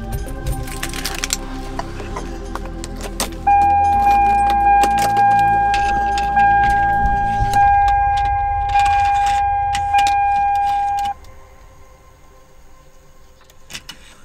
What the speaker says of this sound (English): I'm gonna go ahead and turn on the car now